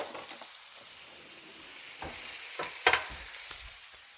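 Algerian-style beef meatballs browning in a hot pan, a loud continuous sizzle with crackles and a few utensil clicks close by as they are turned.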